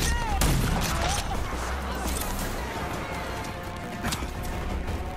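Gunfire in the video game Rage 2 cracks in sharp bursts, several loud shots early and another pair later, over a dense rumbling game background with faint whines and debris sounds.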